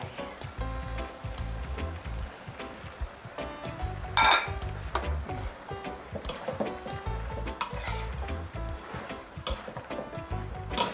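A spatula repeatedly scrapes and clinks against a pan as chicken, tomatoes and spring onions are stir-fried, with faint sizzling underneath and no talking.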